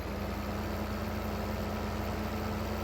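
A tractor engine idles in the farming game Farming Simulator 2015, giving a steady, unbroken mechanical drone with a low constant hum and no speech over it.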